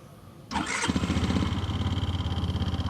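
An RKS Icon 50 ST scooter engine is started, a brief starter whir catching quickly into a close, rapid putter that settles into an even idle.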